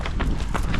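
Quick running footsteps pound close by in a rapid, even rhythm, about four or five strides in under a second.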